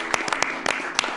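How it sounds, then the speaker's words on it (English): Studio round of applause: a handful of distinct, sharp claps scattered irregularly over a low background murmur, fairly faint and brief, as if only a few people are clapping. "give him a round of applause, everyone"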